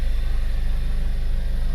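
A steady engine idles with a low, continuous rumble, even and unchanging throughout, with no voices.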